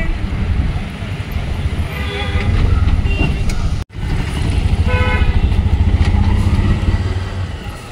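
An auto rickshaw engine drones loudly and continuously during a ride, with a rough low rumble, road noise and a brief cut midway.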